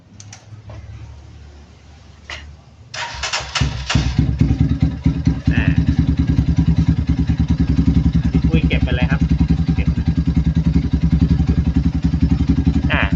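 A GPX Legend Gentleman 200 motorcycle is started after an engine oil change, with a brief crank before the engine catches and then settles into a loud, steady, rapid idle pulse close to the microphone.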